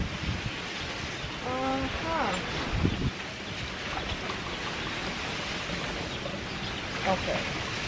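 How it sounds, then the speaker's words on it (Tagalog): Strong, gusty wind roars across an open outdoor spot, a steady broadband rush with brief voices and small knocks heard partway through. "Grabe yung hangin. Galit na galit."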